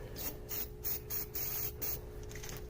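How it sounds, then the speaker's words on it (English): Several short, close hissing bursts of spray from an aerosol can of penetrating oil on an H22 engine head, sputtering in quick pulses. "you're going to want to spray it like right here on each of them"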